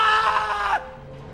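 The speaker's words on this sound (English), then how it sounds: "instead will raise the chainsaw high and let out a scream" James from Silent Hill 2 lets out a loud, harsh male scream as he raises a chainsaw overhead, one sustained cry lasting under a second that cuts off into a quiet low hum.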